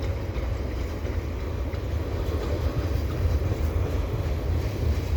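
A CN freight train passes through a snowy park, its low steady rumble and rolling wagon noise holding close and constant without pause.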